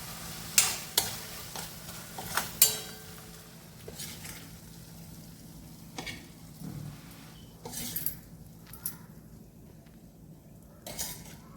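Prawns frying in a pan and stirred with a metal spoon, giving sharp clinks and scrapes against the pan over a soft steady sizzle, close and without talk.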